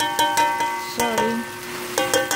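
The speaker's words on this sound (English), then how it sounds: "That's a rice fry. With a pork," Rice frying with bacon pork in a home kitchen pan, with repeated clinks and scrapes of a utensil stirring over a steady sizzle, close and fairly loud.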